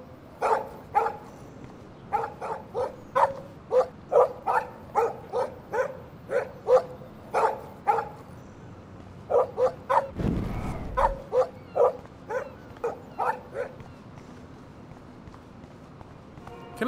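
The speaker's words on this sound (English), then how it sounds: "Shut that dog up." A dog barks in the video game Life is Strange Remastered, loud repeated barks in quick, evenly spaced runs with short pauses between bursts and a brief low thump partway through.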